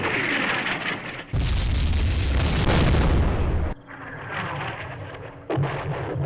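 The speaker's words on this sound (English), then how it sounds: "Direct fire with artillery." Artillery firing directly in a Vietnam War strategy game, a loud sustained booming blast rumbling for a couple of seconds, then a quieter stretch and another heavy burst, with no talking.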